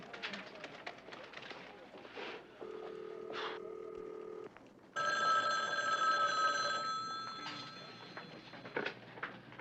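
A telephone rings on a call in a 1970s Las Vegas crime drama, with steady, sustained electronic ring tones over faint background talk.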